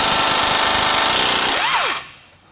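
A power tool, likely an impact wrench, runs in a loud continuous whir on the top bolts during a Toyota Tundra 7-inch lift install, then winds down and stops near the end.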